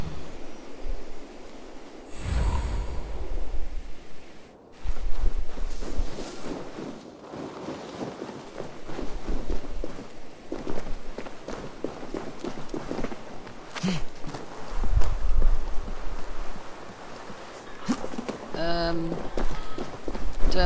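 A horse gallops in Assassin's Creed Valhalla, its rhythmic hoofbeats thudding steadily for about twenty seconds amid wind and game ambience, with a voice now and then.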